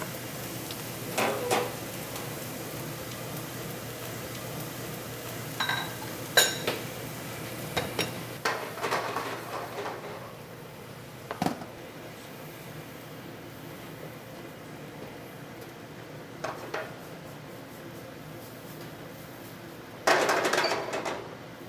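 Sparse metal clinks and scrapes of a utensil stirring a butter, flour and milk roux in a pan for an omelette, in short irregular bursts with quiet gaps between.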